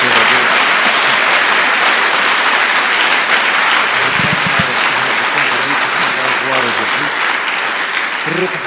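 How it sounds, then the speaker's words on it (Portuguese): Congregation applauding the Lord during a Portuguese-language church service: dense, sustained clapping from a crowd that carries loudly for the whole stretch, with voices mixed in beneath the applause. "dê uma salva de palmas ao Senhor."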